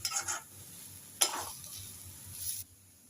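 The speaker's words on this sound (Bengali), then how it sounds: "দিয়ে এবার মিশিয়ে নেবো ভালোভাবে সব কিছু একসঙ্গে" Vegetable chop filling is stirred in a pan with a few close scraping sweeps and a sharp clack partway through, with a soft sizzle beneath, alone and fairly quiet.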